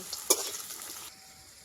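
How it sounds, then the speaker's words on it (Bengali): Potatoes frying in hot oil until reddish, for a spicy puti fish and eggplant dish, give a faint, steady sizzle with one quick stirring scrape near the start. "এই যে আলুগুলো আমি লাল লাল করে ভেজে নিচ্ছি"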